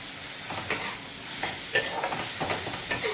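A spoon scrapes and stirs a spice mixture of red chilli powder and salt in a pan for an egg and potato curry, with repeated short scraping strokes over a soft, steady sizzle.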